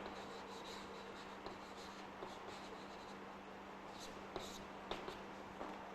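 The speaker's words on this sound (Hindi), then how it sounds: "मैं लिखता हूं" Pen on paper writing out chemistry calculations by hand: faint, close scratching strokes with a few soft taps, steady and quiet beneath a low electrical hum.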